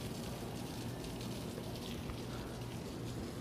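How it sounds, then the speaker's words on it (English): Heavy rain pours down steadily outside a workplace in the afternoon, a dense, constant hiss of water with no breaks, moderately loud throughout. "look how crazy it's raining."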